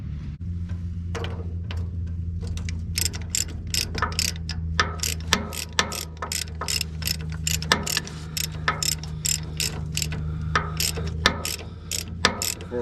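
A ratchet wrench tightens a bolt on a New Holland 489 haybine, rapid clicking pawl strokes repeating in steady bursts over a low engine-like hum, close and clear with no talking.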